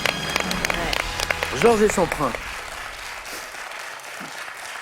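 A television game show studio audience on Questions pour un Champion applauds under someone speaking in French. The clapping then thins to a faint patter once the talking stops.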